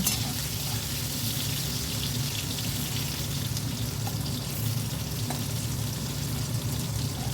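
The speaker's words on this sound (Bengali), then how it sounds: "এবার আমি এই তেলের মধ্যে বেগুনটা ভেজে নেবো বেগুনের টুকরোগুলো দিয়ে দিলাম" Eggplant pieces fry in hot oil for a fish curry, giving a steady, dense crackling sizzle that stays loud and even from start to finish with no voices.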